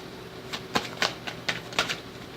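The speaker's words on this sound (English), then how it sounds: "I'll shuffle the cards and let them draw themselves." A deck of cards is shuffled by hand for a reading, producing about six crisp, close slapping clicks in a quick uneven rhythm with no voices.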